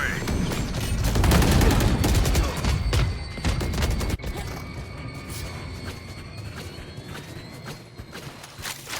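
Missile volley launched in a competitive esports match, a loud cluster of rapid popping bursts and booms up front that trails off into scattered clattering impacts and mechanical noise.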